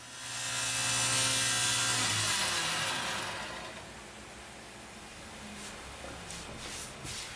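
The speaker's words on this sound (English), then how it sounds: "We'll take it over to the table saw." A table saw trims an eighth of an inch from a wooden cabinet shelf, its loud broadband whine rising and holding for about two seconds, then fading, with a few sharp clacks of handling toward the end.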